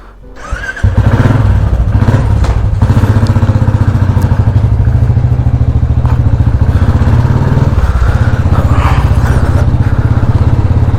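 Royal Enfield motorcycle heading off on a ride, its engine catching after a short moment and then thumping loud and steady with a deep, even beat, close up throughout.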